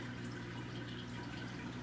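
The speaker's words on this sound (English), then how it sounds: "See the water flow coming out of that is just awesome" Water flows steadily out of the plumbing into a decorated aquarium tank in a fish room, a constant soft rushing trickle with no breaks and no voices.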